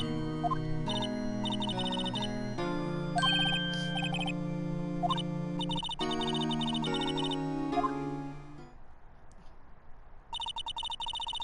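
A ringing phone in Phoenix Wright: Ace Attorney plays as steady looping melodic chimes over game music, repeating throughout before briefly dropping out and returning near the end.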